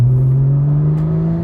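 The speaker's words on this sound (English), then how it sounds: "what's the exhaust going to sound like?" Porsche 991 GT3 engine fitted with Dundon Motorsport exhaust and headers, a loud steady mid-pitched drone that rises slightly in pitch as it holds near, with no one talking.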